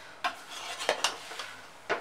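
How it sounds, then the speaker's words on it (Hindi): A metal spoon scrapes and scoops cooked mutton white pulao out of a pot, a few distinct clinks and scrapes spaced out over a quiet background. "तो बहुत ही आराम से चम्मच को नीचे डालते हुए निकालेंगे"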